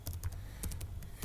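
Rapid bursts of computer keyboard typing, a string of light, close key clicks in quick irregular rhythm with no voice over them.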